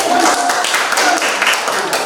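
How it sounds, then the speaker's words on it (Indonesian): A small group clapping hands together at an Indonesian group presentation, a brief dense patter of claps close by with voices mixed in beneath. "Tepuk tangan dulu, kasih semangat"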